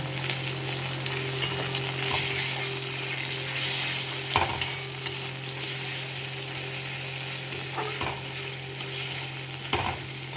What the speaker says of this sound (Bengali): আলুগুলো পেঁয়াজের সাথে ভেজে নেব। তারপর দিয়ে দেবো মধ্যে গোবিন্দভোগ চালটাও ভেজে নেব